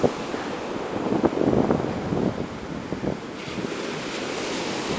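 Ocean waves crash on the shore in rolling surges of broad rushing surf, mixed with gusty wind buffeting the microphone, with no voices.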